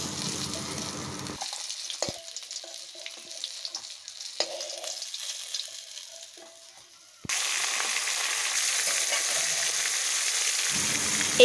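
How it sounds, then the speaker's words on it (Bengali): Pangas fish frying in hot oil for a spicy Bengali fish curry: a soft crackling sizzle with occasional clinks of a utensil, then a louder, steady hiss that continues to the end. "এইভাবে সবকটা মাছ ভেজে নেব।"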